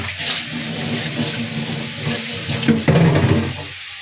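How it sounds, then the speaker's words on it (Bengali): Running tap water splashes steadily over leafy greens being rinsed under a kitchen faucet, a continuous close splashing that swells louder near the end. "আর এই যে কলই শাকটা ধুয়ে নিচ্ছি।"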